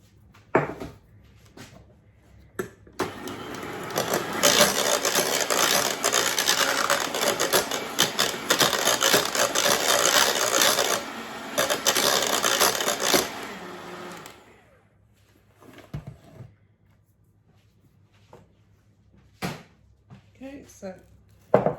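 An electric mixer beats egg whites with a drop of lemon juice for a souffle, a loud steady whir lasting about ten seconds before it stops, with faint clatter and some talk before and after.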